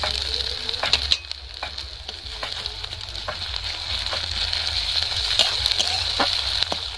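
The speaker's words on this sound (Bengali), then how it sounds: "পেঁয়াজটা আমি হালকা করে ভেজে নেব" Onion frying lightly with ginger garlic paste in a pan, a continuous crackling sizzle with sharp pops and occasional stirring, close and steady with no talking.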